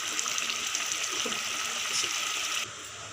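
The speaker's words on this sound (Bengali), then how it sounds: "সামান্য পরিমাণ জল দেবো," Water pouring into a pan of kofta curry, a steady bright splashing stream that runs for a couple of seconds and then cuts off abruptly.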